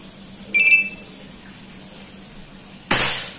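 A faint short tone comes early, then a small PCP bullpup air rifle at 2700 psi fires at a metal target, giving one crisp, fairly close report with a short metallic tail.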